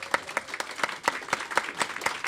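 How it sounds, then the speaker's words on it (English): An audience applauds a speaker at a convening on closing the wealth gap: a fairly sparse round of individual hand claps, moderately close and steady for about two seconds. "Actually, can we give Richard one more round of applause?"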